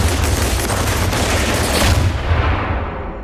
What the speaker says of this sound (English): there was a lot of shooting